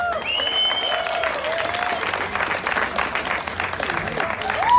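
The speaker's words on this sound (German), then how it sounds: "nochmal ein kleiner Applaus für beide Athleten" A crowd claps and cheers for two athletes at the final of a freestyle calisthenics street competition in Frankfurt, steady and fairly loud, with whistles and voices mixed into the applause.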